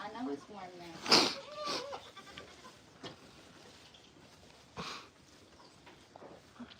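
Billy goat bleating in a Pennsylvania farm pen, one loud sharp bleat early followed by a fainter call later, with low barn background noise and people talking faintly.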